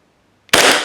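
An Army Armament R45 Detonics Combat Master .45 1911 airsoft pistol fires a single BB with a loud, sharp, close crack after brief silence, its burst trailing off quickly.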